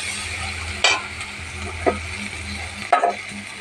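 Grated coconut and spices stir in a pan over a steady sizzle, with three distinct scraping strokes of a spoon spaced about a second apart; close and fairly loud, no talking.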